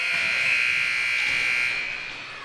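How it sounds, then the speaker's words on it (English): A loud, sustained electronic buzzer ending the second period of a boys' high school hockey game blares steadily, then fades slightly toward the end over a hissing arena background. "the buzzer sounds as period number 2 comes to a close"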